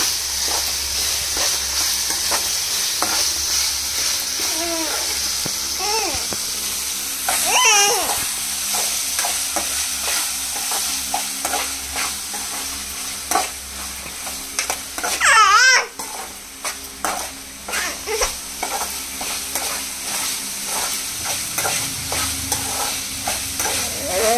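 Green chilies, curry leaves, onion, salt, turmeric and ginger-garlic paste fry in oil for a chicken fry, giving a steady loud sizzle broken by stirring scrapes, with a brief voice now and then.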